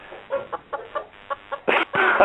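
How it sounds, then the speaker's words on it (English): Chickens cluck nearby in a series of short, separate calls, growing louder and longer toward the end. "what's up with the chickens?"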